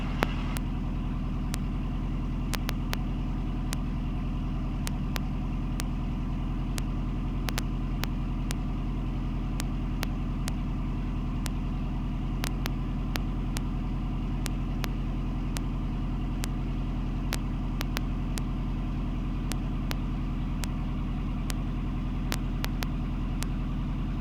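A training helicopter engine running at reduced RPM, around 1200, a steady loud droning hum with regular faint ticking, continuous throughout with no talk.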